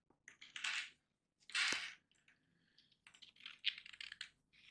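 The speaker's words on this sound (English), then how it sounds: "cut that side with the scissor" Scissors snip through paper while a simple paper boat is made, three close bursts of crisp cutting separated by short pauses, the last cluster choppier with several quick snips.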